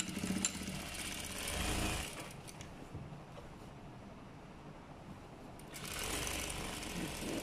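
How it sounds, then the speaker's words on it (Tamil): Sewing machine stitching the shoulder seams of a pinafore, a steady mechanical whir that runs loud at the start, eases into a quieter hum in the middle, then picks up again near the end. "ஷோல்டர் ரெண்டு ஷோல்டரையும் புற பக்கமாக எடுத்து தைக்க போகிறேன்"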